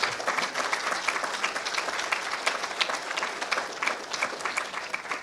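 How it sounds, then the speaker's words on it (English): An audience at a surgical technology commencement ceremony applauds, a dense, steady wash of many hands clapping that fills the room without pause. "let's please give your loved ones a round of applause for a job well done"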